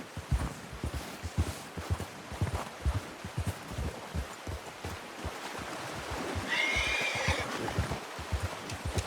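A horse in Red Dead Redemption 2 walks with a steady, soft clip-clop of hooves, then lets out a brief high whinny near the end over a low outdoor ambience.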